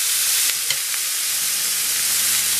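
Turkey frying in a pan sizzles with a steady, dense hiss, broken by a few light stirring clicks near the start, with no talking.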